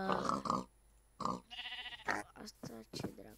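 Pigs in the Minecraft video game give a quick run of short, close grunts and squeals in separate bursts with brief gaps between them.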